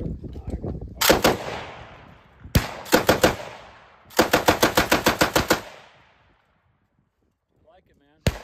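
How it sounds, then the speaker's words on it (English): A Lewis machine gun fires at an outdoor machine gun shoot in three loud, close bursts, the last one longest at roughly ten rapid rounds, each burst followed by a ringing tail and then quiet. "I'm shooting a Lewis gun."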